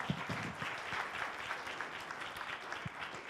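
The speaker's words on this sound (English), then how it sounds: "A round of applause nonetheless." Audience applause after a scoring round at a medical conference pitch event, a steady wash of many hands clapping at moderate distance, continuous for several seconds with no talk.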